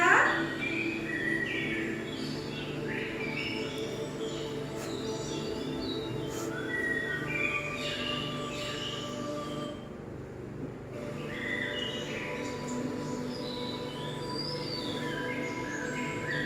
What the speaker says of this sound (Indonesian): Burung yang sedang berkicau.